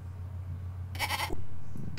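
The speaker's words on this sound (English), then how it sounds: "Just goat noises." A goat in a video game gives a short, nasal bleat about halfway through over a low steady hum, then a brief second cry starts at the end.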